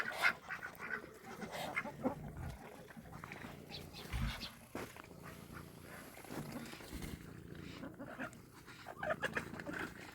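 Ducks quacking and chickens clucking in a farmyard, scattered calls at moderate distance with faint background noise.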